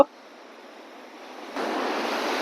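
A strongly flowing river in Nepal, a steady broadband rush of water that swells louder about halfway through, close and continuous with no voices.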